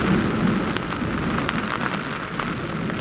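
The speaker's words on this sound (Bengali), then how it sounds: "বৃষ্টির মধ্যে হাঁটছি, প্রচুর বৃষ্টি পড়ছে।" Heavy rain pours steadily outdoors while someone walks through it, a dense, loud wash of drops hitting surfaces with no pauses.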